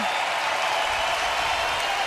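Broad steady applause and cheering from a standing crowd at an NHL pre-season hockey game between the Montreal Canadiens and Ottawa Senators in Quebec City, a dense even wash of clapping throughout.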